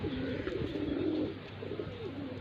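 Low, throaty cooing of a teddy pigeon inside a box, soft and rolling, close and slightly muffled, over a steady background hum.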